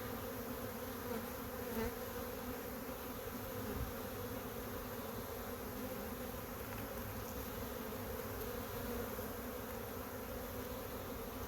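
Swarm of confused honey bees flying around hives that have just been moved, a dense, steady buzzing drone close by that carries on without a break.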